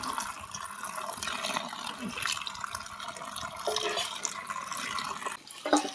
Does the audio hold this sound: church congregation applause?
no